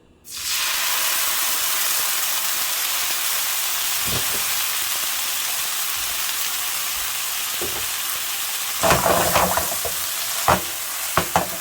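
Sofrito sizzles in hot extra light olive oil, a loud, steady frying hiss that fills the clip, with a few stirring scrapes and clatters cutting through toward the end.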